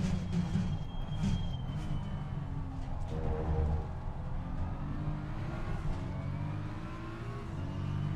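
Race car engines in the Assetto Corsa Competizione racing game hum and rev at moderate distance, with a steady mechanical drone and shifting engine pitch as cars run together on track.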